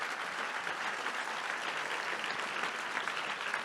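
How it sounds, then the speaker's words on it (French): An audience at a FIFDH 2024 forum applauds the panelists, a steady wash of many hands clapping, moderately distant and fairly quiet, holding constant for a few seconds. "on peut les applaudir"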